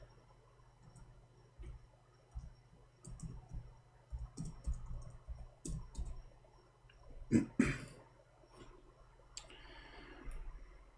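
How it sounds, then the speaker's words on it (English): Rapid clicking of computer keyboard keys, a quiet run of irregular keystrokes with a few louder taps, alone with no talk. "let us type this"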